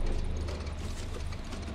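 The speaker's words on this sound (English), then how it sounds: "Sewing machine with a foot pedal" An old foot-pedal sewing machine in the horror video game Song of Horror, giving a steady, dense mechanical whirring and ratcheting clatter that runs loud and unbroken for the whole short stretch, with no talking.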